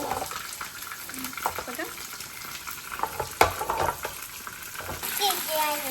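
Buttermilk chicken frying in butter in a pan, a constant crackling sizzle with stirring scrapes and clinks, while a small child and an adult talk briefly over it.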